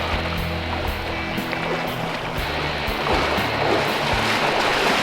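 A strong river current rushes through freezing water, a loud, continuous broadband roar and wash close by, with no talking.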